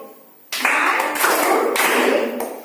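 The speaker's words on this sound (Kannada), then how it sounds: "ನಲ್ಲಿ ಕಲಿ ಚಪ್ಪಾಳೆ ನಮಗೆ ಸ್ಟಾರ್ಟ್ ಮಾಡೋಣ ಮಕ್ಕಳೇ" A group of children claps together in a library clap activity, a dense, steady burst of many hands starting abruptly and holding loud for about two seconds before easing slightly.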